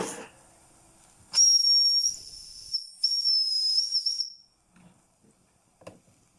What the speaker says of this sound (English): this will be the first time that she ever runs with steam